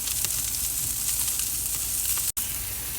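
Pork chops and ribeye steak pieces trimmed from a standing rib roast sizzle on a grill in a steady, close, crackling hiss, with a momentary dropout near the end.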